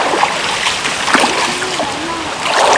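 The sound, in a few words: small forest stream water splashing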